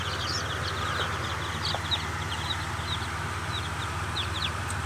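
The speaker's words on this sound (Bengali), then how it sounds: "দেখেন আমার অনেকগুলো বাচ্চা বের হয়েছে মেশিন থেকে" Freshly hatched native chicks and quail chicks from a 160-egg incubator keep up a busy, continuous high peeping over a low, steady machine hum.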